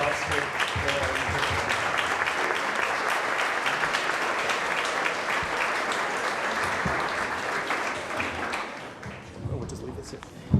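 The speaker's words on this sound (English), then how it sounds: "give a round of applause for" Audience applause fills a room at a chamber of commerce awards ceremony, steady sustained clapping from a crowd that tapers slightly toward the end.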